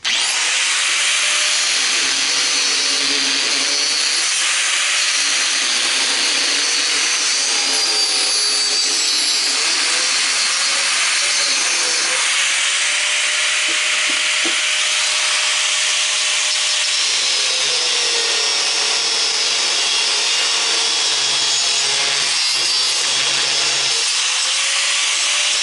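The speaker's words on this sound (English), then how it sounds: "I've got the hoist plugged into the little extension cord I usually plug the grinder into." Electric hoist plugged into a small extension cord, running while lifting the motor off a scrap push mower: a loud, continuous grinding whine that rises and falls in pitch over time, with no talking.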